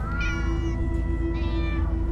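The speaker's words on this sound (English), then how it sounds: "Oh, many cats. So many cats." Several cats meow in the video game Minecraft Story Mode, a few overlapping mewing calls at close range over a steady low background drone, with no talking.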